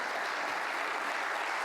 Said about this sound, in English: You can hear the applause next door